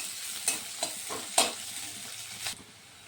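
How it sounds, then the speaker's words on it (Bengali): Chopped onions lightly frying in a wok sizzle softly under several sharp spatula scrapes and taps spaced unevenly across the clip, close and fairly quiet, with no speech. "পেঁয়াজগুলোকে একটু হালকা করে ভেজে নেব।"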